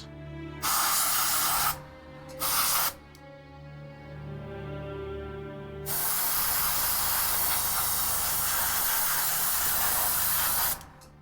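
An airbrush sprays acrylic paint onto Warhammer 40k miniatures, giving two short hissing bursts and then one long steady hiss of about five seconds, close and fairly loud with no talking.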